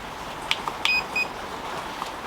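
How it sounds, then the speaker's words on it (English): A drone battery powering on: a few short, faint electronic beeps chirp in quick succession over a steady background hiss, with one last soft beep after a pause. "Hold it down until it makes all the beeps,"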